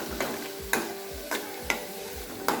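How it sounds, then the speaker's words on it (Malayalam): Sliced onion fries in oil on high flame for a soya biryani, with a continuous close sizzle broken by about five rhythmic scraping strokes of a stirring spoon. "ഇനി ഇതിലേക്ക് നമുക്ക് ഒരു സവാള ചെറുതായിട്ട് കട്ട് ചെയ്തിട്ട് കൊടുക്കാം. അതൊന്ന് ഫ്രൈ ചെയ്തെടുക്കണം."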